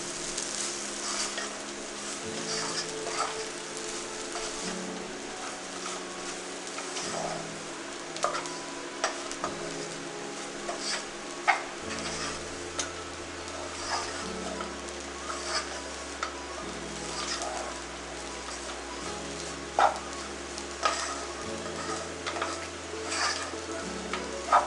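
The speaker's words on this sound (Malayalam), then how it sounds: "മസാല, ഗരം മസാല ഇതെല്ലാം കൂടി ഇട്ട് ഒന്ന് വഴറ്റി കൊടുക്കാം" Masala and garam masala sautéing in a pan for a crab roast, giving a steady close sizzle with occasional stirring scrapes and taps over a low tonal hum, with no talking.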